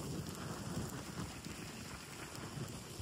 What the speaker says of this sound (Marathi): कोलाडमध्ये मुसळधार पाऊस चालू झालाय